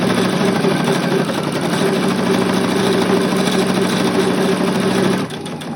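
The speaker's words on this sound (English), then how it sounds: "You can backstitch there if you feel like you need to hold that elastic in." A sewing machine runs steadily, backstitching elastic onto a dress, its loud, continuous motor whir and needle chatter holding for about five seconds before easing off just at the end.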